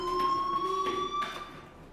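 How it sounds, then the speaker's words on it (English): Fire alarm ringing in the video game Life is Strange, a steady electronic tone with faint pulsing bursts, moderately loud and continuous for two seconds, with no talking. "do you hear that fire alarm?"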